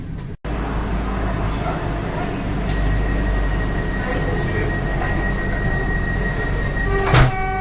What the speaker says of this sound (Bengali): হাওড়া স্টেশন থেকে ট্রেনের ডিপারচার হয়ে গেছে।